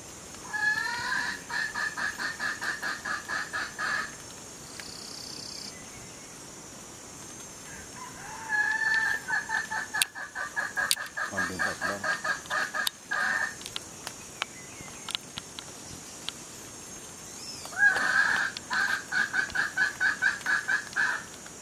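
A wild chicken clucks rapidly and rhythmically in repeated bursts, with a few short squawks in between, fairly close and with no talking.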